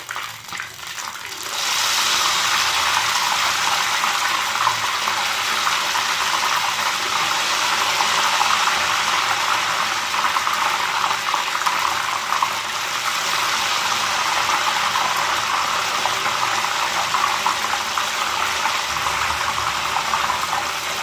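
Ghevar batter hits hot ghee and breaks into a loud, steady, close sizzle that starts abruptly and keeps an even hiss throughout, with no talking.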